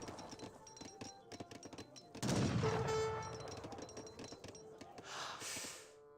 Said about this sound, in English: We got some needle gunners up on the field.